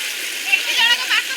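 Floodwater rushing through a village, a steady hiss of flowing water, close and continuous over a very short stretch.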